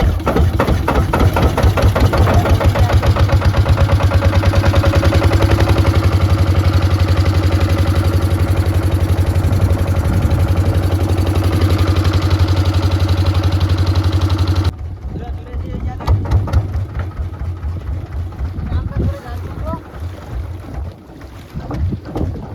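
A fishing boat motor on a Sundarban fishing trip runs loud and steady with a deep droning hum and wind buffeting, then drops to a lighter chugging after a cut, with talk mixed in.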